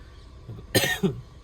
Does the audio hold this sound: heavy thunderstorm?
no